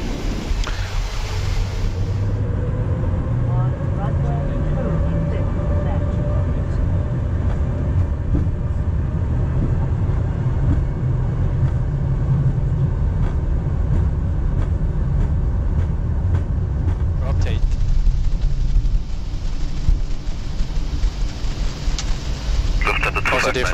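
An Embraer 190-E2 jet airliner rolls down the runway for takeoff, with a steady, rushing roar heard from the cockpit that builds and rumbles throughout and grows louder near the end.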